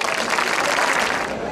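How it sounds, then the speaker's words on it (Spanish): Audience clapping at a national folk dance showcase in Leganés, a dense, even wash of applause from a full house, continuous and fairly loud from start to finish. "Quiero recibirles con un fuerte aplauso y espero que les guste mucho."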